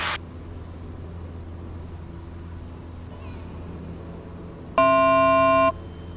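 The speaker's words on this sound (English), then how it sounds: "It beeps at 200 below what setting you're at and 200 above." An aircraft's altitude alert sounds as a single steady electronic tone for about a second inside a small plane's cockpit, loud over the constant engine drone.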